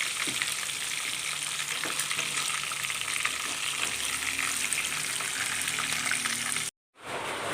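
Constant crackling sizzle of chicken pieces frying in hot oil, with occasional soft clinks of a utensil stirring.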